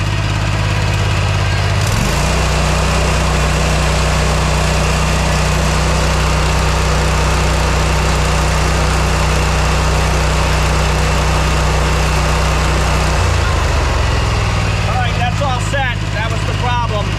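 A Scag mower engine runs at full throttle after a repair, a loud steady drone with strong low harmonics holding from about two seconds to thirteen, then easing off near the end.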